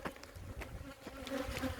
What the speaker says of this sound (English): Nice swarm.